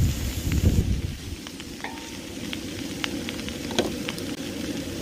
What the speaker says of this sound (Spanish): Y seguimos friendo un minuto.